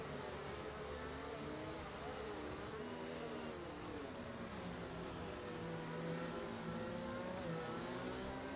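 Racing cars accelerate back to full speed after the safety car pits at the Miami Grand Prix in a racing game, giving a continuous rising engine drone with overlapping revving tones at moderate volume.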